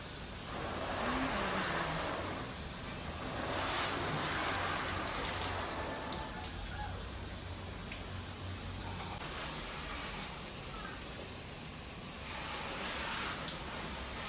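Water sprays steadily onto a Geely EX2 car during a wash, making a continuous hissing rush that swells and eases slightly for over fourteen seconds with no voices.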